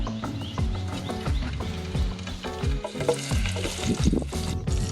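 Peanuts, garlic and turmeric fry in a pan over an outdoor fire by a forest river, with continuous sizzling and stirring scrapes, busy and close, and birds chirping faintly behind.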